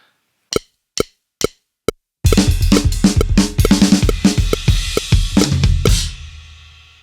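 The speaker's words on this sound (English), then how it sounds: "the next element is his use of a quasi-linear fill that sounds like this, up to speed." A drum kit plays a quasi-linear fill at full speed, opening with four sparse clicks and then a loud, dense run of snare, tom and kick hits with cymbal wash before the final ring fades.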